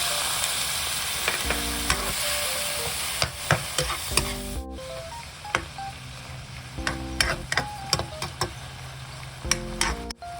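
Shrimp cooking with garlic in a pan as a little water goes in, giving a steady close sizzle broken by the clack of utensil strokes against the pan.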